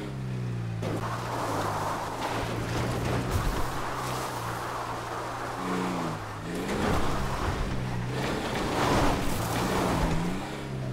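Car engine from Grand Theft Auto V driving steadily, a continuous low drone with rising and falling pitch as it accelerates and shifts, loud and alone with a faint wash of wind or water noise.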